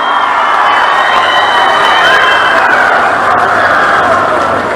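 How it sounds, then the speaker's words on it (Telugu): Large crowd at a public event in Tirupati clapping and cheering loudly, a dense continuous roar of applause with shouts and whoops rising over it. "గట్టిగా చప్పట్లు కొట్టి హర్షాన్ని ఆమోదాన్ని తెలియజేయండి"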